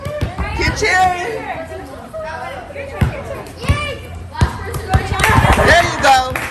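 Children shout and chatter excitedly during a basketball session in Costa Rica, with bursts of lively cheering, overlapping voices and an occasional ball thump close by.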